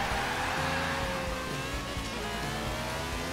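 A Bugatti Chiron with a W16 engine and a Lamborghini Murciélago launching side by side in Forza Horizon 4: steady loud engine roar building under acceleration, continuous and close.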